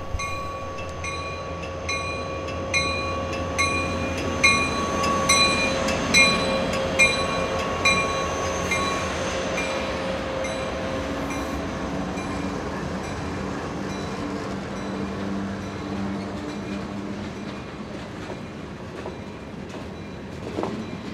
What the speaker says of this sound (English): SD70 Mac number 4823, built in 2004, is showing some age as it leads this train today.